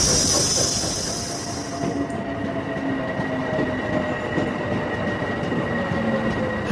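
A train pulls into Hackney Station in London with a steady rumble of wheels on rails and a brief high squeal early on, then continuing low rolling noise and faint tonal hum, loud and close with no talk.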